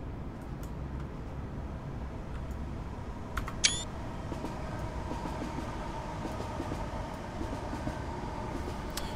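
A London Midland Class 350 electric multiple unit runs along the line in the Train Simulator 2017 game, with a steady rumbling drone and faint rhythmic clicks, plus one brief high chime near the middle.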